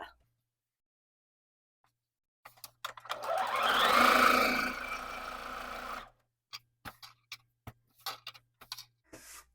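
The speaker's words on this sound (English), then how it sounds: "I'm going to send them all through my sewing machine at the same time" A home sewing machine stitches quilt pieces together in one continuous whirring run of about three and a half seconds, followed by scattered short clicks and taps of fabric handling.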